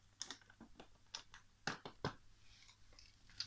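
A rubber band is pulled off a plastic bag holding aquarium fish and the bag is opened: faint, close, irregular crinkles and snaps, a few sharper plastic crackles among soft rustling.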